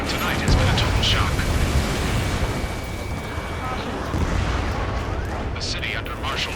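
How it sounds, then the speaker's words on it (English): Gunfire and explosive artillery bursts in the combat flight game Ace Combat 7, set in a city under martial law, dense rumbling blasts under jet roar with voices speaking over the din. "Gunfire and the roar of jets echoing through the streets"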